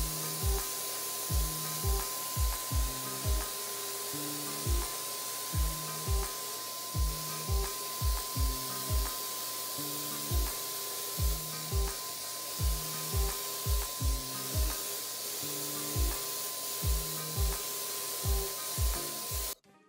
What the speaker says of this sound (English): Make sure your settings on your paint sprayer are correct and get spraying your room.